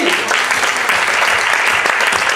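A church congregation gives loud, sustained applause as an offering of praise, dense rapid clapping filling the room without pause.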